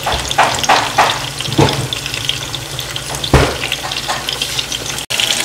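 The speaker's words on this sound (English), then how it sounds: "Cooking up nice and good. The onions, the peppers, and the tomatoes." Onions, bell peppers and tomatoes sautéing in a hot pan, a loud, close sizzle and crackle with bursts of stirring and scraping spread through five seconds, with no voices.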